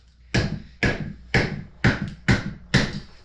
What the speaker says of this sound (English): and actually use a real hammer.